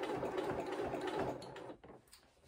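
A sewing machine stitches a seam on a pair of shorts, a dense mechanical whirr running steadily close up, then easing off and stopping near the end.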